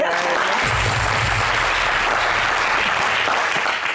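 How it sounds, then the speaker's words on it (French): Loud, dense applause from a studio audience on a French-language TV show fills the whole stretch, steady and close, with a faint voice at the very start. "On applaudit pour lui."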